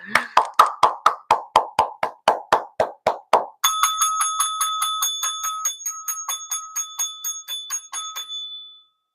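Loud, evenly spaced single hand claps repeat about a dozen times, then give way to a quick series of bright, ringing bell dings that fade out, with no voices.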